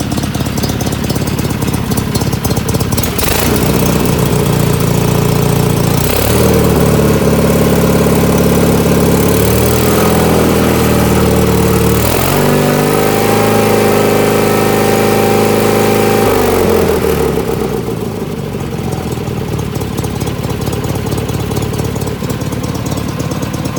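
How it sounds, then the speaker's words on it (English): A 1979 19.9 mower engine idles loudly and close for the whole stretch, a rough, steady drone with shifting tone, a little uneven while still cold, with no talking. "sometimes it'll start hard, but most of the time it starts like that. And then that idle does clear up quite a bit when it's warmed up"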